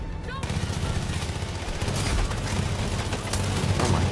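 Continuous machine gun fire in Far Cry 5 rattles steadily and loudly, a dense unbroken stream of rapid shots that starts after a brief moment and keeps going throughout.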